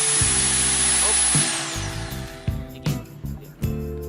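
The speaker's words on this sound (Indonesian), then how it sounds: "Jadi ini kita posisikan sebagai bor biasa tanpa impact" A power drill in normal drilling mode, without impact, whines steadily at high speed, then winds down, followed by a few short, sharp knocks and rattles close by.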